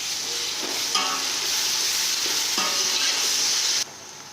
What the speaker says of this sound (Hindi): अब हम इसमें अदरक लहसुन का पेस्ट डालकर फ्राई करेंगे।